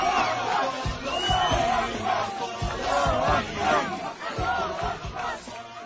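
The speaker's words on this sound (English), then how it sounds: "Residents in Gaza could be heard cheering and chanting." A crowd of Gaza residents cheering and chanting Donald Trump's name, many voices shouting together in rhythmic, loud bursts with whoops over a dense, continuous roar of people.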